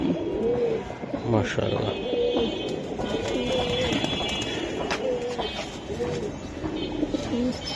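Giribaz pigeons coo in repeated soft, throaty phrases at close range, rolling on steadily while someone speaks briefly over them.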